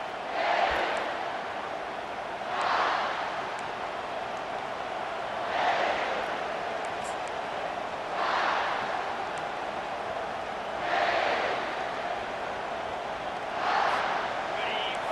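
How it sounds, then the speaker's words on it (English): A stadium crowd at a college football game roars in rhythmic swells every few seconds, a dense, distant wash of cheering and chanting that never drops away. "This crowd bringing an ear-splitting welcome to their visitors."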